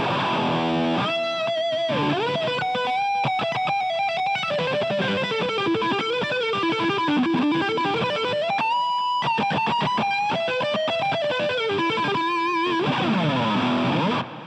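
An electric guitar through the metal lead amp model of a Boss GT-8 multi-effects unit plays fast, highly distorted lead lines with bends and sustained notes, loud and continuous throughout.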